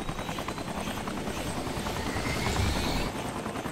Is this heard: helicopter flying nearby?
yes